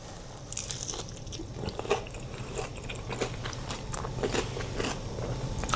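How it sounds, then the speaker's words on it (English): Close crunchy bites and chewing of fried fish and sweet potato fries, a run of crisp crackling bursts at a steady pace with no talking. "It's like a blend in between fish and chips and"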